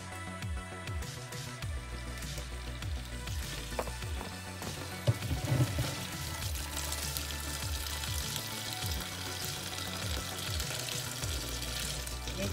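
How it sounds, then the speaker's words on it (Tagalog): Salad vegetables rinsed under a running kitchen tap, a steady continuous stream of water splashing over leaves in a sink, close and fairly loud throughout with small handling clatters. "Ito, maghugas na po ako. Ito, hugasan ko to."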